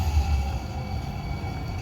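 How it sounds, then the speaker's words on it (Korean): A tram rumbles past at moderate distance in San Jose, a steady low rolling drone with a faint tonal whine above it. "트램."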